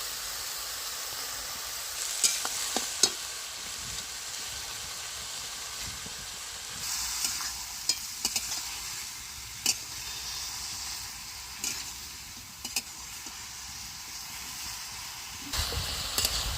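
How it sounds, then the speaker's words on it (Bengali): Hilsa fish heads with madhumal leaves sizzle steadily in a pan, a constant frying hiss broken by occasional clinks and scrapes of stirring, close and unaccompanied by talk. "জল না দিয়ে মাছের মুড়োগুলো দিয়ে ধারে ধারে করে নেড়ে নিচ্ছি।"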